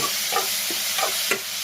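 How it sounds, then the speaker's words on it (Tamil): Green chillies and tomato sauté in a pan for a lemon skin chutney, with a steady sizzle and about four spoon-stirring scrapes, close and moderately loud, no voices. "இந்த ஸ்டேஜில் நம்ம பச்சை மிளகாயும் தக்காளியும் சேர்த்துக்கலாம்."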